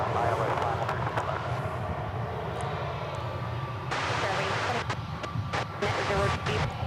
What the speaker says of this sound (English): All right, yonder cometh the Dreamliner.